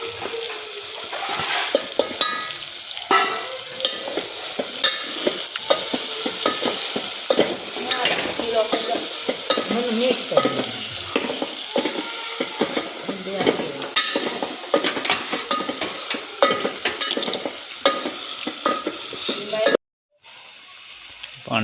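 A spoon stirs a red chili vegetable and potato mix frying in a pan, with continuous loud sizzling and repeated scraping strokes close up, cutting off abruptly near the end.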